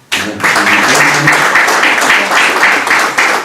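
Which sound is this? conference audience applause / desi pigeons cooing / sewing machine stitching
conference audience applause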